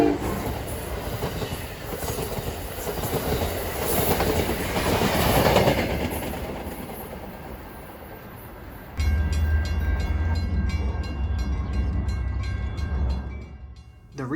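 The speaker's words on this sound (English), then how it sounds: "another Hiawatha is coming out behind the Empire Builder" Amtrak Hiawatha passenger train passing Edgebrook Station behind the Empire Builder, a loud continuous rumble of cars rolling by with clickety-clack wheel noise and a sharp steady tone rising in the final seconds.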